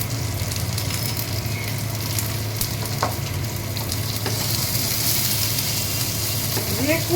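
Ingredients fry in a pan with nigella seeds and salt, giving a steady, loud sizzle throughout with occasional clinks of stirring.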